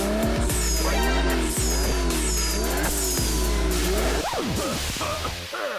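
A cartoon toy pick-up truck speeds off on nitro with loud, sustained tire squeals and skidding over a revving engine, several sharp screeching sweeps close up, ending abruptly.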